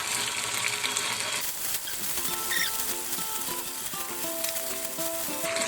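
Chicken breast pieces, fried and then mixed with pepper in a pan, sizzle steadily while being stirred, with soft scraping and pattering throughout.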